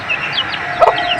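A hen gives a few short, nearby clucks, ending in a louder, sharper burst, with no other sounds around it.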